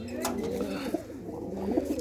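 A female pigeon coos nearby in soft, low, rolling calls that repeat over a faint background hum.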